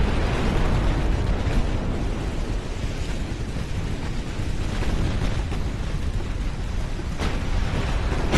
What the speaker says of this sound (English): There's a torpedo hit.